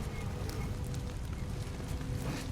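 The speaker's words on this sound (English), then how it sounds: "The sound of crackling fire is disguising footstep noises" Crackling fire in the samurai action game Nioh, with irregular pops and snaps over a low rumbling bed, at moderate level and no talking.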